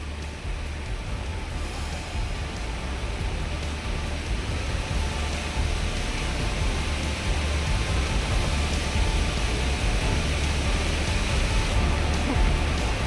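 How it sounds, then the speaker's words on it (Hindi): Monsoon flood water rushing through a rain drain in Udhampur, a loud, unbroken roar of turbulent flow that holds steady throughout with no voices. "बरसाती नाला है, अचानक पानी का तेज बहाव आ गया।"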